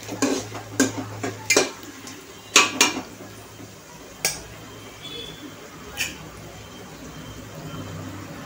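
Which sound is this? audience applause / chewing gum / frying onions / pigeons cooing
frying onions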